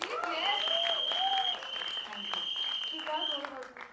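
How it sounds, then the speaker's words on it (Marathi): A studio audience claps in a steady patter of applause while voices carry on over it, heard at a moderate level throughout. "माझ्यासाठी एकदा टाळ्या वाजवा गाईज प्लीज"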